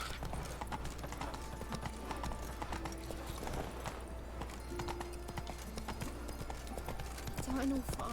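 Roach the horse gallops in The Witcher 3 with a steady, fast clip-clop of hooves that runs the whole time beneath ongoing game sound and voices, and a brief whinny comes near the end.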